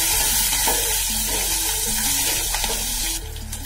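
Green chillies fry in hot oil in a pan with a steady loud sizzle, occasional stirring scrapes breaking through, and the crackle thins slightly near the end.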